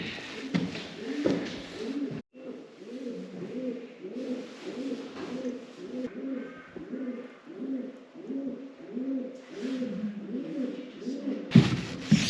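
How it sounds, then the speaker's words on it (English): Pigeons coo continuously in soft, rhythmic low phrases inside a roof, repeating steadily and echoing slightly in the enclosed space, with a few brief noises around them. "I can hear pigeons in the roof somewhere."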